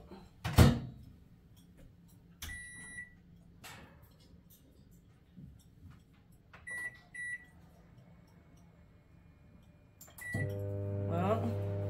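A microwave oven melting butter: a few clicks and short beeps as the door and buttons are worked, then the oven's low steady hum starts and runs to the end.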